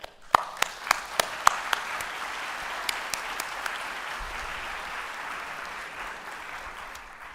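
Conference audience applauding to welcome international guests at the opening ceremony of the EGPA 2025 conference, a steady hall-wide clapping that holds evenly throughout, with a few sharper nearby claps standing out at the start.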